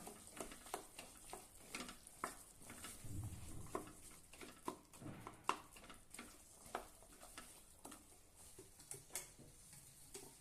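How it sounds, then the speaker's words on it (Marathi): Chana and mashed potato bhaji stirred together in a pan, with a steady run of faint, quick scraping and tapping strokes close by in a quiet kitchen. "सर्व एकत्र करून घेऊया"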